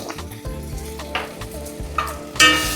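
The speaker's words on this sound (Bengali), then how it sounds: "দিয়ে আবার একটু কষানো হচ্ছে" Mutton curry sizzles loudly as it is sautéed in mustard oil, with a rhythmic low stirring scrape every half second and a few brighter spikes, the last burst hissing strongest.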